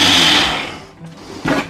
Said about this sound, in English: So I'll start the roll in the blender.